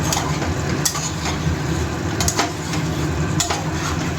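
Chicken curry with spices being stirred in a pot for a thin Bengali chicken jhol: a steady close sizzle with scraping strokes of the spoon at a loose rhythm, and no voice.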